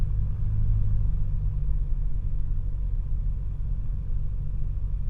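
Light piston engine of a PA28 light aircraft rising in power while taxiing, a steady, loud low rumble with a dense droning hum throughout, no voices.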